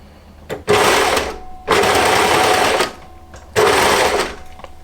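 A serger overlock machine stitching a cardigan seam at a 6 mm seam allowance runs in three loud, steady whirring bursts separated by short pauses, close up with no talk.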